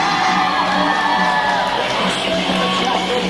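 A wrestling crowd at an anniversary show cheers and whoops for Alexis Anderson, a loud, steady roar of voices with yells that fills the whole moment.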